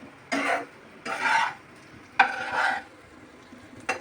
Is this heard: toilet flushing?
no